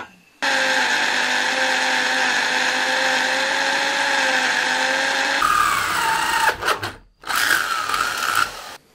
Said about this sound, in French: je vais faire ça à la perceuse à main